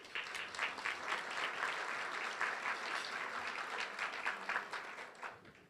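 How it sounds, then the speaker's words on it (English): Audience applause for the venue staff at Heritage Palm during Indio's State of the City event: steady, dense clapping from a crowd at moderate level, sustained throughout and tapering slightly at the end. "Let's all give them a round of applause."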